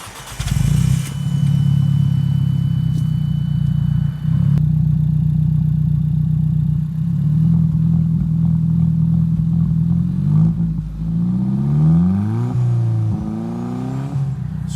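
An Alfa Romeo 4C Coupe's powerful engine cranks and catches, settling into a loud, steady idle before several sharp revs rise and fall near the end.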